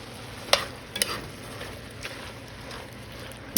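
Diced green chilies with their juice from a 4-ounce can being stirred into a creamy chicken and corn chowder in a pot, giving soft scraping and a few sharp clinks of the utensil against the pot, close and fairly quiet.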